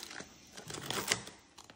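Scissors snip through crispy oven-roasted pork shoulder skin, giving quiet, close crackling crunches in a quick irregular cluster.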